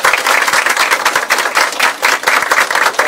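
A crowd at a political party convention applauds steadily and loudly, a dense wash of clapping that holds throughout without pause.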